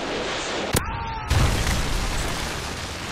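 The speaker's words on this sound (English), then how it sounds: "Predator missile inbound" A Predator missile strike explodes in a Modern Warfare 3 multiplayer match: a sharp crack, then a louder, deeper boom a moment later that rumbles on over constant battlefield noise.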